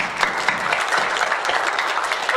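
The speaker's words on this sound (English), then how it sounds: "Give a big clap" Children at a school assembly clapping together in a dense, steady burst of applause that fills the hall evenly for a couple of seconds, with no voices rising above it.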